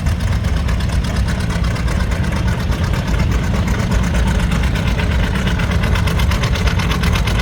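Antique double-headed John Deere R two-cylinder diesel tractor running at a steady idle, a loud, close, low chugging beat with a fast even rhythm and no talk.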